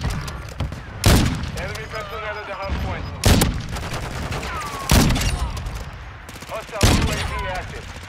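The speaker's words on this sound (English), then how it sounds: "I'm shooting through the wall." Bursts of gunfire from a first-person shooter game on a district map, four loud sharp volleys spaced a couple of seconds apart, with game effects and a player talking between them.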